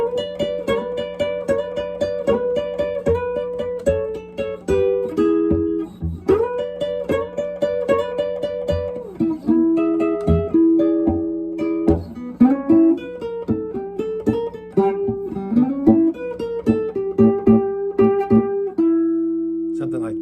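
Chicago blues electric guitar riff in the early electric blues style, played at a slowed tempo, with repeated plucked notes and a steady sustained low tone running underneath for about twenty seconds.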